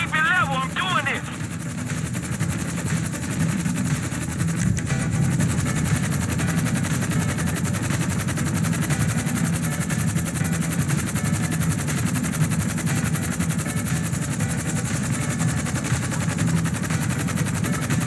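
Helicopter engine in the video game GTA 5, a continuous low rotor and engine drone running throughout, with a short burst of gunfire-like noise near the start and people talking over it.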